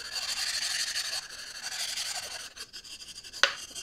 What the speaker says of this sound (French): on va chanfreiner, casser des angles. J'aime bien faire ça sur mes pierres.